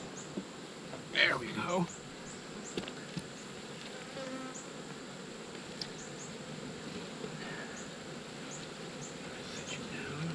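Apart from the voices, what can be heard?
bees buzzing around an open beehive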